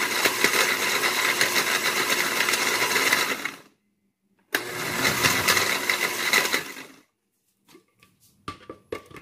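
A blender whirs loudly in two long bursts with a short silent pause between them, followed by a few scattered clicks and knocks.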